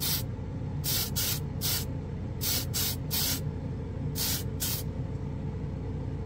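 Hobby matte clear coat from an aerosol spray can, sprayed onto Gunpla plastic in bursts: about eight short, loud hissing blasts, some in quick pairs, over a steady low background hum.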